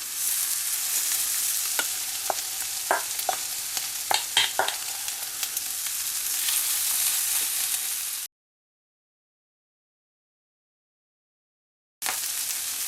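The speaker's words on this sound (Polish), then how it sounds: "I opiekam na nie za dużym ogniu z obu stron na rumiano" Beef patties with cheese and ham frying in a pan over moderate heat, a steady broadband sizzle with scattered crackles and pops, close and even, cutting to silence partway through before resuming.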